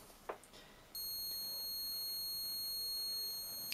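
A quiet click, then a steady high-pitched electronic tone from a multimeter continuity test starts and holds continuously without a break, probing a PS4 HDMI port pin.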